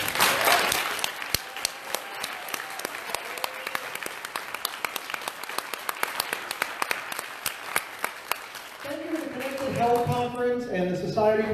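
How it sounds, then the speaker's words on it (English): Live audience applause for a discussion panel at a medical conference podcast recording, a scattered wash of claps that runs steadily for several seconds before fading under music-like tones near the end. "Big round of applause for our panel."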